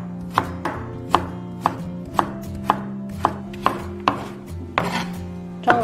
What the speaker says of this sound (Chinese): 改刀切丝。